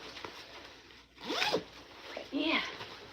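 Zipper on a couch pillow cover pulled in two quick rasping strokes with a short pause between, close and clear.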